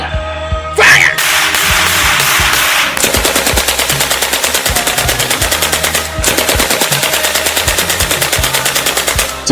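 Film gunfire: loud, close, sustained machine-gun bursts of rapid rhythmic shots that run almost continuously, with a short break partway through and no talking.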